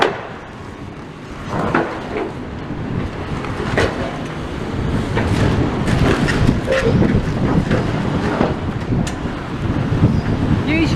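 Strong wind buffets an outdoor camera microphone near a building demolition site, a loud continuous rumbling roar with gusty surges and occasional knocks, building over about eleven seconds.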